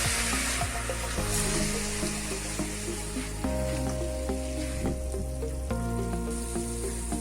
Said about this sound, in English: add washed mutton pieces and saute it well